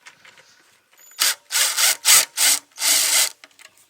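Stand screws being backed out of a Stark charger stand with a T30 star bit, a run of five loud, close scraping and grinding bursts of driver against fastener, separated by short pauses.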